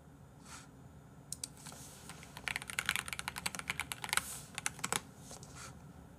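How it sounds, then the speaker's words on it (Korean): Rapid computer keyboard typing in bursts of crisp clicks, close and fairly loud, starting sparse and then speeding into a dense flurry of keystrokes. "키보드 소리 너무 좋다."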